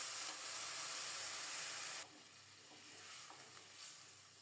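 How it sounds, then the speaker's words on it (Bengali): Boiled hot water is poured into a pan of fried fish and browned onions, giving a loud, steady sizzle. The sizzle drops suddenly and settles into a softer bubbling hiss. "এখন দেব ফোটানো গরম জল।"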